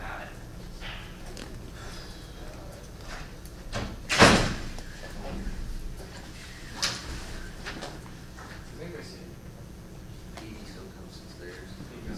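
A door is pushed shut and locked in an indoor room, giving one sharp, close thump with a brief rattle midway. Low room noise surrounds it, and people talk quietly nearby.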